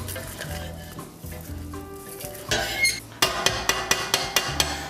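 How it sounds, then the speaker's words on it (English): Dry brown rice stirred around a hot pan, with soft scraping and rattling grains at first, then louder, sharp rhythmic clacks of a utensil against the pan toward the end. "We're gonna take the brown rice, and this is what we're gonna do. We're just gonna put it in dry."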